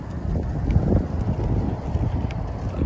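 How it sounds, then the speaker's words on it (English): Strong wind buffets the microphone of a bicycle moving along a road, a steady low roaring rumble that fills the whole stretch without a break, loud and close, with no voices over it. "Now the wind is blowing straight to our faces. Yeah, it's more noise."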